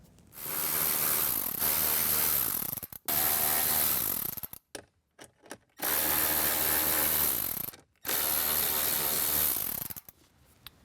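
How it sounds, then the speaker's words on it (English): A power screwdriver backs screws out of the dash screen trim of a 2024 Jeep Wrangler, with four long whirring bursts separated by short pauses and clicks, close and fairly loud, and no talking. "There are 5 screws on top to remove."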